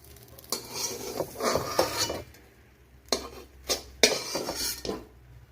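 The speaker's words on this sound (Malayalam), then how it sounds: "ഇതിനെ ഇനി പാത്രത്തിൽ നിന്ന് ഒന്ന് കോരി മാറ്റാം." A metal spoon scrapes and clinks against a pan while cooked egg mixture is scooped out, in short uneven bursts close by with a faint sizzle underneath.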